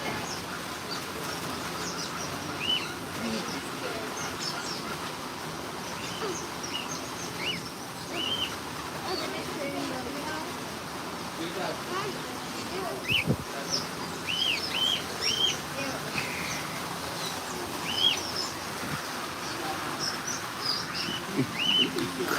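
Birds call during a hands-on feeding encounter at a Florida marine park, a scatter of short, high chirps and tweets at irregular intervals over a steady outdoor hum of water and distant crowd noise.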